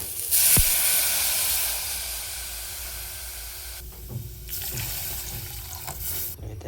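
About two glasses of water run and splash steadily into a cooking pot at close range, its rushing tone changing as it fills, then trail off into softer trickles.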